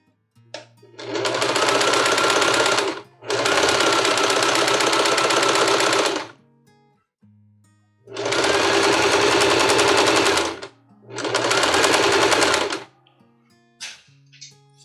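A sewing machine stitches a tablecloth in four long, loud bursts of rapid mechanical chatter, with short quiet pauses between runs.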